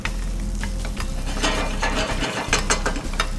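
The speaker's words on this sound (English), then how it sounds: "I'm gonna give this a stir just to keep it moving." Scallops stirred in hot bubbling butter in a pan, a close, busy sizzle with rapid clicking and scraping as they are moved around, no talking.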